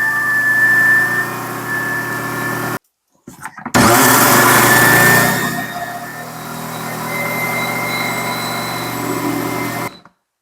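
A blender grinding rice loudly with a harsh, buzzing whir, stopping briefly, then surging back and running steadily before cutting off.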